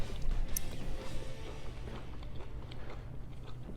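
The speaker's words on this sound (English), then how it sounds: "Asparagus is perfect, got a little crunch to it." Close, crisp chewing of crunchy asparagus eaten with a reverse-seared filet mignon from a griddle: a few soft crunching bites over a low steady background, with no talking.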